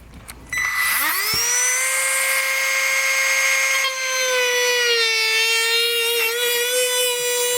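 A power tool cuts a slot in a plastic underbody panel during a trailer hitch install on a 2020 Toyota Corolla, giving a loud, steady high-pitched whine after a short start that holds for several seconds, alone with no talking.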